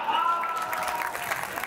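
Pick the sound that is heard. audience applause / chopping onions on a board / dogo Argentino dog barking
audience applause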